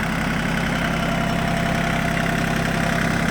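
A Yanmar F13D mini tractor engine idles nearby, with a steady, even mechanical drone and a fine regular knock that stays level throughout.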